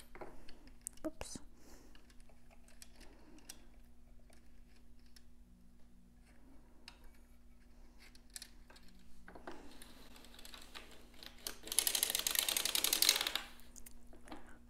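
Sock knitting machine cranked back after yarn is wrapped behind a single needle, giving soft mechanical clicks and rattles with a steady hum, a denser burst of clatter near the end, and quiet talk at times.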